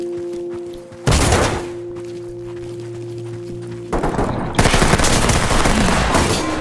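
Breaching shotgun blasts in the tactical shooter Ready Or Not, loud broadband bursts at about one second and again near four seconds, followed by sustained heavy gunfire and crashing noise, no talk over it.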